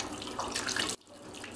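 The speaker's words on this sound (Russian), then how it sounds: "Кипяток в кране – верная примета зимы." Hot water from the city heating plant gushing from a tap into a sink, a steady close splashing rush that suddenly cuts off, then a quieter trickle.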